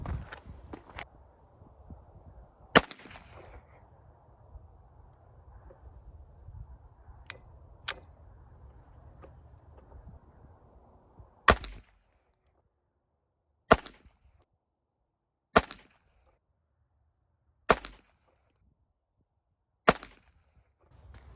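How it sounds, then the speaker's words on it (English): Sharp single pistol shots from a Walther PPK in .32 ACP, firing Norma and hand-loaded ammunition outdoors at a range. About eight separate cracks are spaced a second or more apart, the last five evenly timed against near-silence. "let's shoot one more 3-shot group of both the Norma and the hand-loaded ammo"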